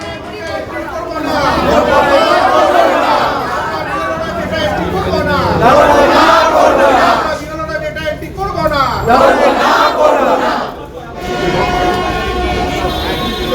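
A crowd of BLO (booth level officer) workers protesting in Siliguri, many voices chattering and calling out at once in a loud, continuous outdoor din with a few brief dips.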